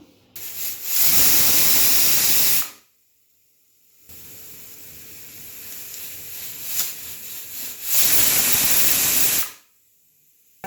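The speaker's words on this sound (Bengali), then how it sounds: "এখন আমি 3টে সিটি মারা হয়ে গেছে" Pressure cooker on a gas stove releasing steam, two loud bursts of hissing whistle separated by a quieter stretch of softer hiss, close by.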